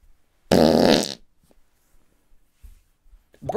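A wet mouth raspberry imitating a fart, one loud buzzing burst lasting about half a second, followed by near silence and faint small noises.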